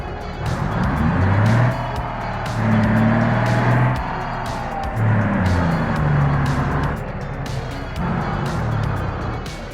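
Truck engine in the BeamNG Drive driving game, a steady loud drone with rising and falling pitch as it accelerates and shifts, running continuously with no talk.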